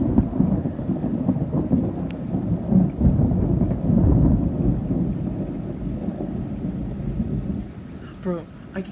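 A thunderstorm rolls on with a steady, heavy wash of rain and deep, rumbling thunder that swells and fades across the whole stretch, close and continuous, with a faint voice briefly near the end.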